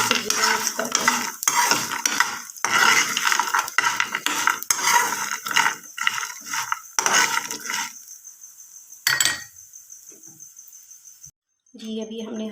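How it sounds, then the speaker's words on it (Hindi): A cumin mixture is stirred in a pan with a utensil, producing repeated close scraping and clinking strokes for about eight seconds, then quieter sparse sounds with a faint hiss. "इसको तकरीबन हमने दो मिनट अच्छी तरीके से जीरा मिक्स कर देना है।"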